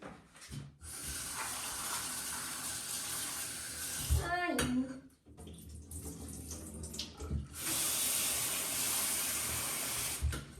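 Chickpeas being washed with tap water in a home kitchen, running water splashing and rushing in bursts with brief pauses and handling clatter between.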